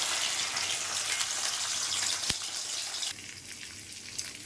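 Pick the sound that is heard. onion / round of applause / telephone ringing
onion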